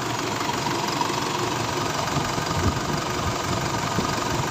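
An Isuzu D-Max engine idling after being started, a steady close rumble with faint knocking texture, even and unbroken throughout.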